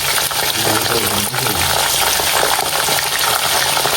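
Loud, dense sizzling and bubbling of cassava chips frying in hot oil, continuous throughout with occasional soft clinks.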